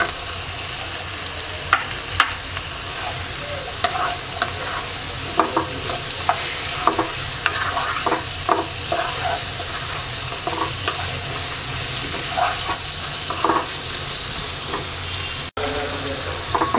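Tomatoes sizzle and fry with spices in a pan for a hilsa fish curry, a constant crackling hiss broken by repeated scraping stirs of a spatula, close and steady with no talking.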